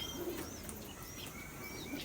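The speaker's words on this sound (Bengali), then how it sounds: "কবুতর সবাই হচ্ছে খাওয়া শেষ করে ঘরের ভিতরে চলে আসতেছে" Pigeons coo softly in a loft, faint low murmuring calls with a few chirps against a steady background hiss, heard at a short distance without speech.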